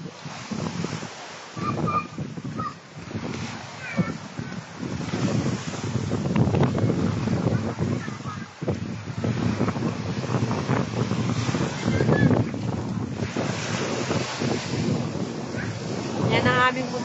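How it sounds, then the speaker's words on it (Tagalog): Strong wind buffets the microphone on an island shore at San Jose, Tingloy, with surf and sea noise beneath, a steady loud roar through the whole stretch and no clear talk over it. "Lakas ang hangin."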